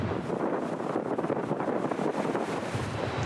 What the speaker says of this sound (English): Unfortunately, it's got super windy again.